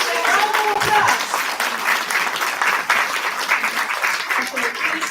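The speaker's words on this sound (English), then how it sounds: "Let's give them a round of applause." A large audience at a business recognition event applauds standing Sales Masters, thick continuous clapping filling the room at steady loudness, with faint voices mixed underneath.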